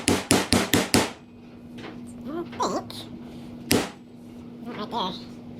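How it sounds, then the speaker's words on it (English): A seal on a tractor wheel bearing is driven in with a 2-inch socket: five quick, loud metallic hammer blows in a row, then a pause with someone talking and one more sharp strike. "I'm gonna use a socket to drive this seal in, and a 2-inch socket seems to fit that thing pretty good"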